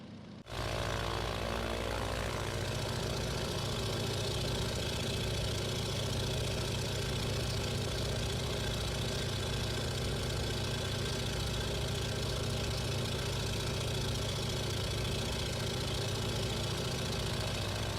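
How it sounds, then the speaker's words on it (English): Steady, loud engine drone that starts abruptly and runs unbroken, a throbbing chugging rumble of a Boeing PT-17 Stearman biplane's radial engine in a flight simulator game. "chugging behind a radial engine that's just got a unique sound"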